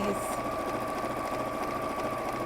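A domestic sewing machine runs steadily stitching lines through dressmaking fabric for appliqué, a fast even mechanical whir close by with no pause.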